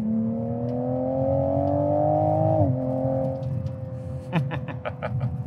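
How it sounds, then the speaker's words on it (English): The engine of a 2021 Toyota Supra revs up in a smooth rising whine, drops off sharply, then settles to a lower hum with a few quick burbling blips near the end, heard at moderate distance. "Gratuitous engine sounds."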